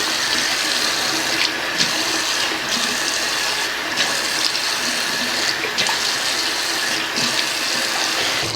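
Water sprays steadily to wet down bleached hair locs at home, a continuous hissing stream with brief pauses and slight shifts in flow, heard up close with no talking.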